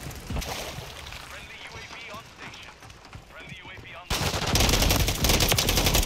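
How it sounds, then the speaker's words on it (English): Burst-fire rifle shots crack in quick clustered volleys during Modern Warfare III multiplayer, close and loud, with a player talking over the first part before the firing swells into a denser, louder stretch. "the burst fire makes it harder to aim, and it's really not much faster to kill at all"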